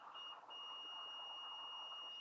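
A digital multimeter emits a steady continuous tone while probing resistance on a PS4 console circuit board, faint and unbroken from start to finish over low background noise.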